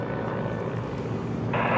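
Warbird aircraft and a helicopter flying at the EAA AirVenture airshow, a steady, fairly loud engine and rotor drone that swells near the end, with no speech.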